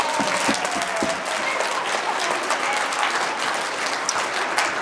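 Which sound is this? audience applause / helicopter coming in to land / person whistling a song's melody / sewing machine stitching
audience applause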